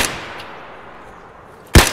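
A single loud, close gunshot cracks out near the end after a fading echo of an earlier shot, amid firefight action in Escape From Tarkov.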